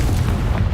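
Confringo fire spell blasts in the Hogwarts Legacy video game: a dense, continuous booming explosion with heavy low rumble, loud and sustained through the whole moment with no talking.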